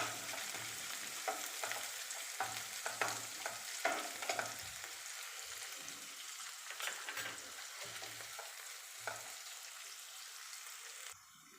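Finely chopped medium onion sautéing in a pan for upma, a continuous soft sizzle broken by frequent scraping stirs of the spoon, close and fairly quiet with no talking.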